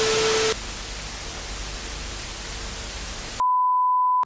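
Halloween ghost toy room alarm making noise after being dropped, a harsh burst of electronic hiss and static ending abruptly in a steady high beep, loud and close, with no talking.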